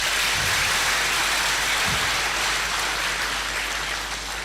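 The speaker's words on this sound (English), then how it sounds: "another round of applause." Sustained applause from a lecture audience, a dense, even wash of many hands clapping at steady loudness throughout, with no voices standing out.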